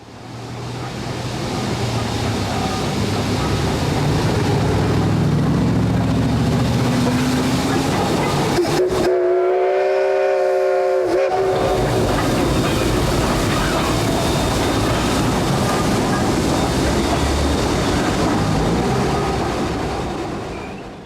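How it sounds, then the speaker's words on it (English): Central of Georgia 699 steam locomotive rolls over a historic railroad bridge on the old Central of Georgia line, a steady loud rumble and wheel clatter throughout, briefly broken by a deep tonal whistle-like blast midway. "a Central of Georgia steam locomotive was traveling over the original Central of Georgia C line on a bridge with Central of Georgia signage"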